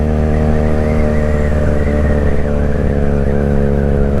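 QJMotor SRK 400 / SRV 400 inline-four motorcycle engine revs steadily and loudly up close, a deep, rich multi-toned drone with slight rises and falls in pitch, no talking.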